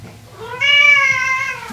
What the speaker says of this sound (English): you better believe there's a cat behind me